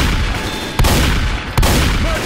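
Gunfire in Left 4 Dead 2's Swamp Fever level as zombie swamp people are shot, with two sharp, loud blasts standing out over a constant roar of game noise and no talking.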